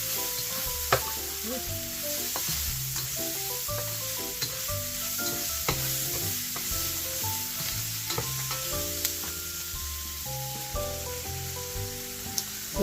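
Onion and mushroom frying in a pan, giving a loud, continuous sizzle and crackle with frequent stirring and utensil scrapes, and music playing underneath.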